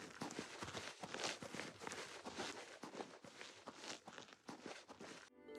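Footsteps of a character walking in the video game Oblivion Remastered: a steady, fairly loud run of crunchy treads with a clear walking rhythm, heard alone with no talk.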